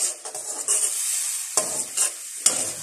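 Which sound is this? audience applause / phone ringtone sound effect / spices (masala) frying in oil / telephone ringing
spices (masala) frying in oil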